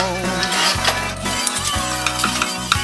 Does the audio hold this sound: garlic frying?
yes